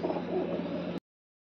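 A pigeon coos in a low, continuous murmur at close range for about a second before cutting off abruptly into silence.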